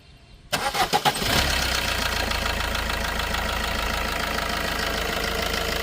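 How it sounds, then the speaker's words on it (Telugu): A Maruti Ciaz diesel car engine cranks with several quick chugging turns, catches, and settles into a steady, rumbling idle nearby. "ఒకసారి ఇంజిన్ స్టార్ట్ చేసి చూపిస్తాను సౌండ్ ఎలా ఉంది ఏంటన్నది అయితే చూద్దాం"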